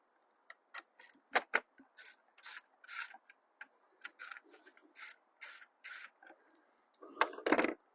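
Battery hold-down straps being removed in a 2019 Chrysler Pacifica: a close series of scraping, rubbing and metallic jangling bursts, irregular and fairly quiet.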